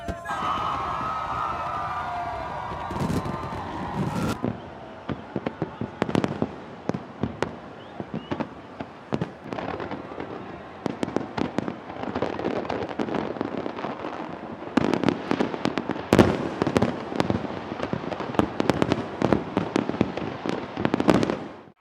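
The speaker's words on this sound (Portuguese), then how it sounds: "mais de 12 toneladas de fogos de artifício iluminaram o céu" New Year's Eve fireworks over a Rio de Janeiro beach, with more than 12 tonnes of pyrotechnics. A rapid, irregular barrage of sharp bursts and crackles builds in density, and a faint siren-like tone is heard early on.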